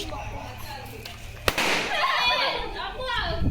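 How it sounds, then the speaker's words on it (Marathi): Firecrackers set off during a Diwali 2025 celebration: one sharp, loud bang followed by a crackling, hissing burst, with people talking nearby. "ही माझ्या मागे फोडायला लागले फटाके"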